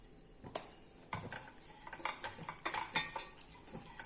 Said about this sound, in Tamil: நல்லா வந்து கிளறி விட்டுருங்க